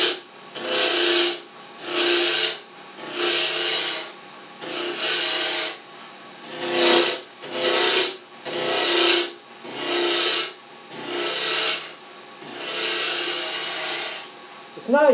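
Woodturning tool cutting milk pear wood on a spinning lathe, producing smooth rasping swishes in repeated passes of about a second each with short pauses between, close and steady.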